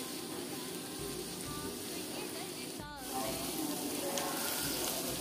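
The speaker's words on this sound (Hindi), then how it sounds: "प्याज का पकनी शुरू हो गई है" Onions frying in a pot as the base for a spicy chicken biryani give a steady, close sizzling hiss, with a brief clatter partway through.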